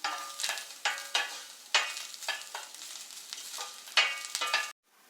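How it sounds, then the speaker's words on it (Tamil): Grated coconut roasting in a dry pan until brown, stirred with repeated scraping strokes that come in uneven bursts over a soft crackle, close and moderately loud, then stopping abruptly just before the end. "நல்லா அந்த ப்ரௌன் கலர் வர வரைக்கும் நல்லா வறுத்துருங்க."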